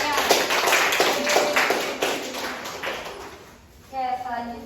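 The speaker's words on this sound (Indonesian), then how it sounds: "Ini tepuk tangan buat semuanya." A class of fifth-grade primary school pupils claps together in a classroom, a dense, loud burst of many hands lasting about three seconds before fading, followed by a brief voice.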